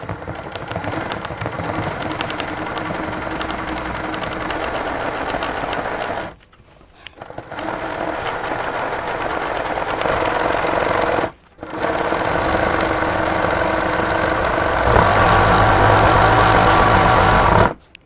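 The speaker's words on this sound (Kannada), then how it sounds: "ಈಗ ನೋಡಿರಿ 1 ನಂಬರ್ಲಿ ನಾನು ಸ್ಯಾಟಿನ್ ಸ್ಟಿಚ್ ಹಾಕ್ತಾಯಿದ್ದೀನಿ" Embroidery sewing machine stitching satin stitch, a loud rapid mechanical chatter of needle strokes running in long bursts, broken by two brief pauses when the machine stops and restarts.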